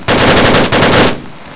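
Machine gun fire in the game Arma 3 comes as two loud, close bursts of rapid automatic shots, separated by a short break, with the final burst tailing off into echo.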